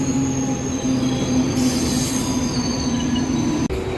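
A MEMU passenger train rolls along the track between Vijayawada and Bhadrachalam, its wheels squealing in loud sustained high tones over a steady rumble, with a sharp clank near the end.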